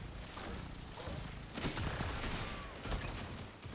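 Faint, rapid gunfire from a Destiny 2 firefight rattles in the background, with a denser burst of shots midway, quiet and somewhat distant.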